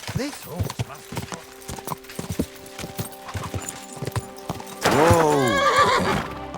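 A horse in the medieval role-playing game Kingdom Come: Deliverance II clip-clops along with steady hoofbeats, then gives a loud, wavering neigh near the end.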